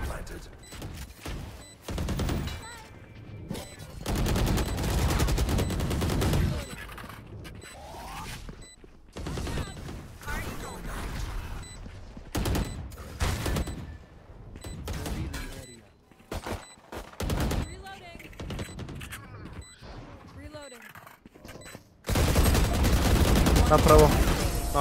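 Gunfire crackles in the Valorant video game in bursts of rapid shots, with louder volleys at the start and end and a player talking between them.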